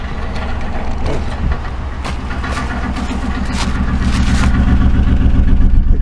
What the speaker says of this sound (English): Take you around back there to the exhaust pipes.